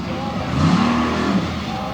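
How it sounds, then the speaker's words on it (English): A loud monster truck engine revs up and holds a rising, throaty roar for about a second, then settles back down, with crowd or announcer noise mixed in at a freestyle event in Lima, Ohio. "Truck sounds healthy"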